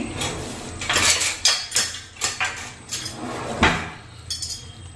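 A metal frying pan set down on a kitchen stove, several loud clanks and scrapes of cookware in quick succession, close and clear with no talking.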